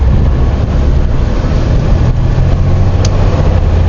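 A 2023 Renegade Verona 36VSB motorhome runs at full throttle, its engine giving a loud, steady low roar mixed with road and wind rumble that stays constant throughout, with no talking.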